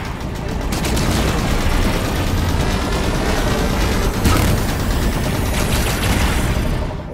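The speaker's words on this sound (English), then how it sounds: "Watch the fire from those turrets!" Turret fire in Halo 5: Guardians pours out as a dense, loud, sustained barrage of rapid shots with a sharper blast near the four-second mark, continuing without pause for most of the stretch and with no voices over it.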